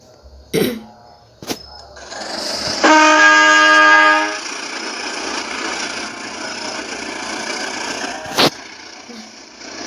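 A CC 201 diesel locomotive moving in Roblox, with a loud multi-tone horn blast, a steady rumbling run, and sharp knocks and thuds scattered throughout.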